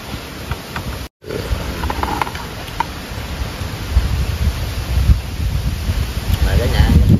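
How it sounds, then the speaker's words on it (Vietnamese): Strong wind gusts roar steadily across an outdoor meal spot, a dense rumbling buffet that swells louder toward the end, with faint voices barely audible underneath. "Mà gió quá trời nói rất không nghe"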